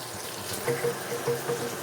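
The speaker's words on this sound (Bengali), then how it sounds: "এবার এটাতে আমি একটু জল দিয়ে দেবো।" Water poured into a simmering paste of tomato, chili and ground poppy seeds in a pan, a soft splashing trickle with brief louder gushes, near and alone.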